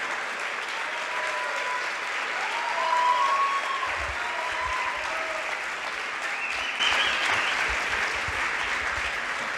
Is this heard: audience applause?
yes